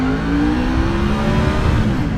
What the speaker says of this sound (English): This engine is just a blast.